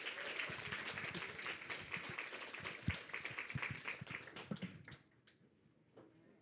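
An audience at a Google and Waze women's empowerment evening event claps in a dense, sustained round of applause that thins out and fades to scattered claps near the end.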